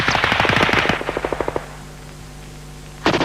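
A British Army GPMG general purpose machine gun fires a loud, rapid burst of sharp shots that slows and stops. A short silence follows, then another burst begins.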